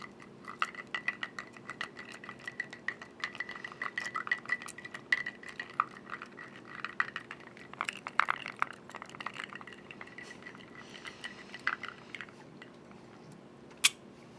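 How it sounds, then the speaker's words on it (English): Ice clinks and rattles faintly in a glass of Woodinville bourbon as it is stirred with a finger, a close series of small irregular taps and chinks over a quiet room hum, ending in one sharper clink. "Finger stir."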